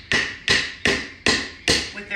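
A hammer drives a nail into a wooden planter base with five sharp, evenly spaced blows close by, each a bright crack with a short ringing decay, and no talking.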